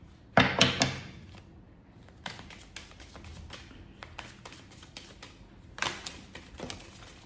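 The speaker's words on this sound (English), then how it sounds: "Too many cards, so let's keep shuffling." Tarot cards being shuffled by hand give short, crisp bursts of riffling and tapping, with a louder flurry near the start and another toward the end, quiet and close with no voices.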